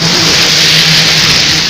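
Cars passing slowly on a foggy, rain-soaked road near Mawlynnong village, a loud close engine hum with hiss from wet tyres, steady and without talk.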